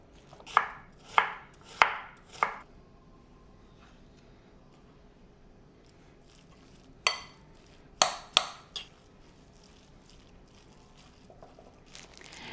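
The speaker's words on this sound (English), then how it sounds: "I'm also going to chop about a half of an onion and add that as well." A knife chops through half an onion on a cutting board: four quick sharp thuds, a pause, then another burst of three or four cuts, close and crisp against a quiet room.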